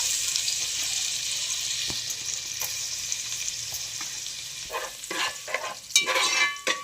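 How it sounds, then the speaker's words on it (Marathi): Chopped ginger and garlic frying in hot oil at the start of an octopus chilli, a steady close sizzle with a few stirring clatters and louder crackles near the end. "आला लसूण शिजून घेऊया पहिले."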